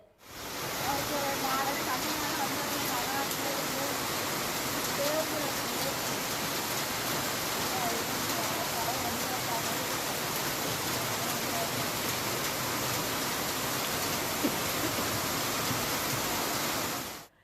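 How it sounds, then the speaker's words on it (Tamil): Heavy summer rain pours steadily around Thalaignayiru, Periya Kuthagai and Thethakudi, making a dense, unbroken hiss that holds at the same loudness throughout with no pauses. "1 மணி நேரத்திற்கும் மேல் பலத்த மழை கொட்டியது"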